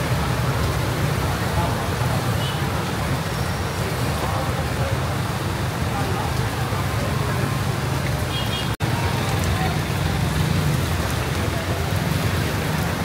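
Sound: rain falling by the riverside in Cambodia

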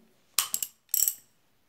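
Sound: ratchet with 17 socket tightening motorcycle crankshaft nut

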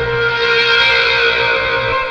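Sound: heavily distorted synthesizer

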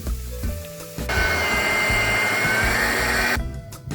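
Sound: electric meat grinder mincing sautéed onion and carrot

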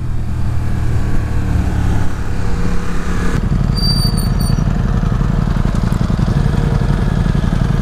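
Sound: Ducati XDiavel motorcycle riding

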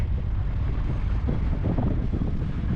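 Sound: wind blowing while sailing

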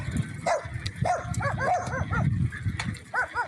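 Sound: dogs barking in a village

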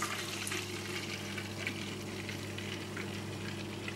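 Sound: hot tap water poured into Vax Floormate cleaner tank

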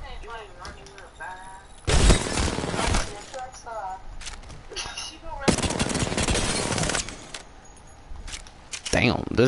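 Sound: gunfire in the video game Apex Legends

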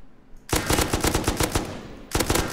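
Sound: M249 machine gun with muzzle brake firing in video game Rust

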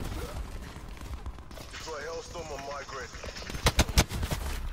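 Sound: gunfire in Call of Duty Black Ops 4 video game

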